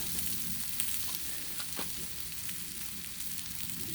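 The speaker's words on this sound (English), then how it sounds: "However many sides, we'll sear them all." A sirloin steak sears on a hot griddle with a loud, constant crackling sizzle and a few sharp pops and spatters, steady throughout with no talking.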